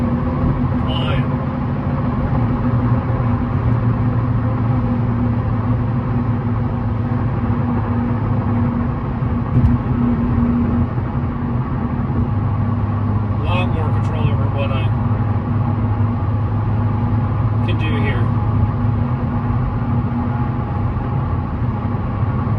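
A Hyundai Elantra N accelerating hard in race mode with a throttle controller fitted, its engine droning steadily and loudly throughout with a few brief higher bursts, and a person talking over the engine noise.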